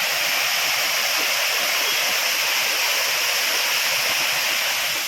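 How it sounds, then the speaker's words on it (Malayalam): A small waterfall at Areekal waterfalls near Pampakuda, Muvattupuzha, pours in a constant bright hiss of falling water, close and steady throughout without voices. "ഇങ്ങനെ ചെറിയൊരു വെള്ളച്ചാട്ടം കാര്യങ്ങളൊക്കെയാണ്"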